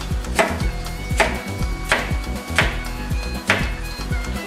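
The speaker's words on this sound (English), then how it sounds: "basically just cut them into slices, just like that" Carrots being sliced with a knife on a cutting board, five steady evenly spaced chops that knock sharply and close up, with a faint hum underneath and no voices.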